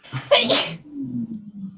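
A single sharp human sneeze bursts out near and loud, followed by a low voice murmuring briefly afterward.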